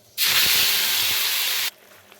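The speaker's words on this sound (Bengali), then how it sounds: "এখন আমি এর মধ্যে ছেড়ে দিচ্ছি বেটে রাখা মশলা।" Ground spice paste hits hot oil in a pan for a Bengali koi fish curry, a sudden loud hiss that bursts in, holds steady and strong for about a second and a half, then cuts off sharply to quiet.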